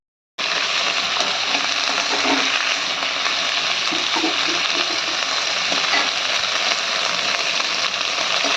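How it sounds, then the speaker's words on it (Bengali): Taruli, a vegetable, frying in a home kitchen pan, giving a steady, dense, close sizzle that runs unbroken from start to finish with no voices over it. "তো তরুলিগুলোকে ভালোভাবে ভেজে নেওয়া হচ্ছে।"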